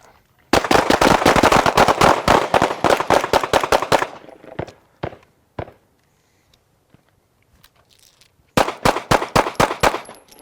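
Rapid handgun shots fired during a shooting drill, a dense burst of sharp cracks for several seconds, then a few scattered single shots and a pause before another fast string starts.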